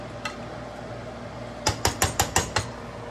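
Metal spoon or spatula knocking against a pot while cooked buttery rice is flipped, a quick run of six sharp clinks in steady rhythm after a single earlier tap, over a low kitchen hum.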